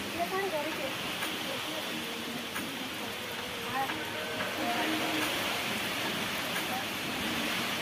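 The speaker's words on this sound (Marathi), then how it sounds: "खूप जोरात पाऊस यायला लागला." Heavy rain pours steadily outside a small farmhouse in a rural field, a broad continuous wash of noise with no breaks, loud and close. A voice briefly mingles with the downpour.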